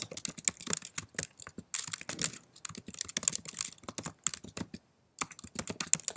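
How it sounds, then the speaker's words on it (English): Fingers tap rapidly on a computer keyboard in uneven bursts, with short pauses between runs of keystrokes. The typing is close and there is no talking. "Sorry, I'm typing."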